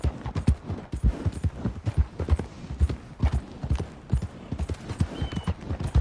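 Horse hooves clip-clop in Red Dead Redemption 2, a steady close rhythm of loud hoofbeats at a walking pace continuing throughout.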